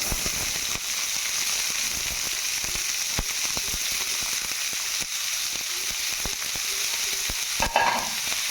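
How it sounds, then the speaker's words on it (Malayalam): Chopped chili and onions frying in a pan for a prawn peralan dish, a loud continuous sizzle punctuated by frequent clacking spatula strokes as they are stirred, close up and without talk. "മുളക് കളറാവുന്നതാണ് ഇളകി കൊടുക്കും"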